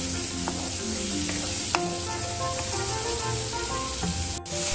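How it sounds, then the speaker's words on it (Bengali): Spice masala for chitol fish kalia fries in oil with a splash of water, giving a close, constant sizzle. Stirring scrapes and a few sharp clicks sit on top of the sizzle, and one brief dip comes near the end. "আর একটু সময় আমি মশলাটা কষিয়ে নেব।"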